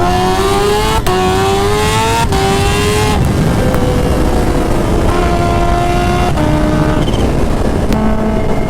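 A Kawasaki Ninja H2 rides hard through a drag race with repeated upshifts. Engine pitch climbs, then drops at each gear change over loud, constant wind roar, close and continuous.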